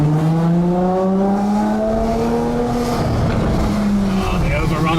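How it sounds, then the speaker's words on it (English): A Ferrari F12 TDF with its 770 bhp V12 on a road in Sicily: loud, close engine overrun with falling and rising tones and crackle as the revs drop and climb, sustained throughout. "Oh, the overrun on this is amazing."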